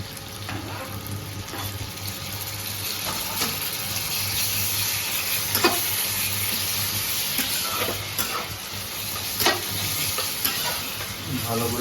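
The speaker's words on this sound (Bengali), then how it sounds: "ভালো করে ফ্রাই করে নেওয়া হচ্ছে" Onion and tomatoes fry in oil for tomato dal, a continuous close sizzle with occasional spatula scrapes and stirring clinks in the pan throughout.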